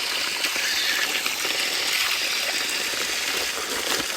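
Clear stream water rushing near a village waterfall, a constant bright splashing flow that stays close and even from start to finish, with no voices.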